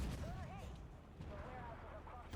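A tank gun in a video game fires heavy booming shots, low and muffled behind a constant rumbling background, with a voice talking over it.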